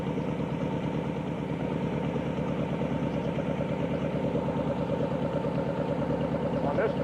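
An engine fitted with Weber carburetors idles steadily during carburetor synchronisation, a constant low, even rumble with a regular pulsing beat, close and unchanging for the whole stretch.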